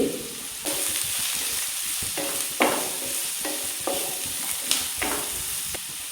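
Chopped medium onions sizzle and fry in a pan for a Kerala-style aloo paratha filling, stirred with a spatula in steady, regular scrapes that recur every second or so.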